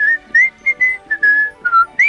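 A person whistles a lively tune of short, bright notes in a quick rhythm, close and clear against near silence.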